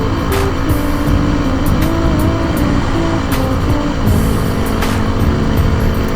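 Motorbike engine roaring steadily while riding over loose desert terrain in the Mojave, loud and continuous with rising and falling throttle and a constant rough rumble throughout.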